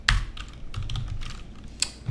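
Computer keyboard being typed on up close, a quick run of crisp key clicks with a few louder taps and no talking.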